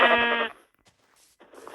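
A sheep gives one loud, close bleat in open countryside, followed by a quiet pause and then fainter rustling and a distant, muffled sound.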